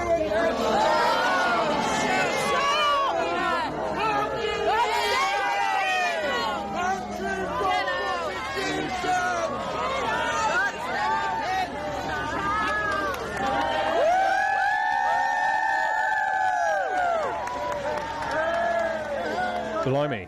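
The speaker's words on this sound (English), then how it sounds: "the king has been heckled for a second time because of his brother as he arrived in Lancashire" Crowd gathered for King Charles's arrival in Lancashire, with a heckler shouting at him amid continuous chatter and murmuring from onlookers, voices close and overlapping throughout.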